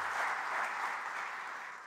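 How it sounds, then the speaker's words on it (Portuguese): Applause from a gathered audience welcoming a nun, Madre Escolástica, at an inaugural lecture; steady, dense clapping that holds for the whole stretch and tapers slightly at the end. "com uma salva de palmas, acolhemos a Madre Escolástica."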